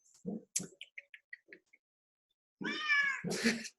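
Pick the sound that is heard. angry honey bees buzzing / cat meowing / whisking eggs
cat meowing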